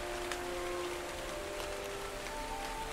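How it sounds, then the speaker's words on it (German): Steady rain falls in the video game Ark Extinction, a continuous soft patter of drops on surfaces under faint ambient game tones. "Das ist das erste Mal, dass wir hier in Extinction Regen sehen."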